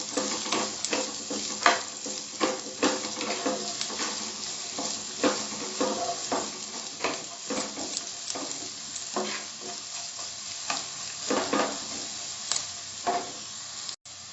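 Chopped onions sautéing in a pan for dal tadka, giving a soft continuous sizzle with frequent spatula scrapes and stirring taps, close and unaccompanied by talk.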